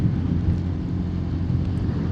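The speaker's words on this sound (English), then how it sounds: "Oh Jesus, it's windy." Strong outdoor wind buffets a microphone, a continuous low rumbling roar with irregular gusty surges and no voices.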